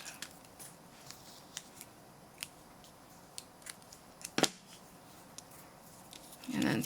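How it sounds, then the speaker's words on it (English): Scissors cut a small piece of material for a craft charm on a bag, heard as scattered light, crisp snips close by, with a rustling handling sound at the end. "I'm going to cut a piece."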